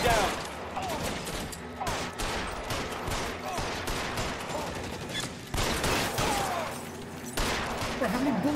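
Sustained video game gunfire, a dense run of shots and bursts that keeps going across the whole stretch, loud and close, with brief lulls and what sounds like speech mixed in underneath.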